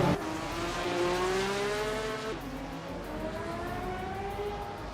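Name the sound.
1982 Domar C82 race car driving, from a racing video game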